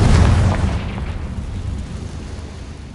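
A Confringo blasting spell from Hogwarts Legacy bursts in one loud, deep boom that rolls away into a long rumbling tail.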